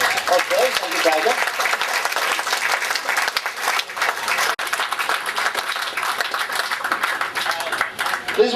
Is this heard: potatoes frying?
no